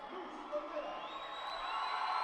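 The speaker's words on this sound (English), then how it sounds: "crowd just going absolutely wild" A judo arena crowd roars and whoops continuously, a dense wash of cheering that swells slightly toward the end, with a commentator's voice faintly mixed in.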